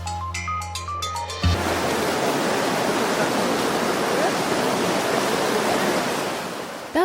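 Salgir river in Crimea flowing as a steady broadband rush of water that begins abruptly after a short musical intro and fills the rest of the clip at an even, fairly loud level.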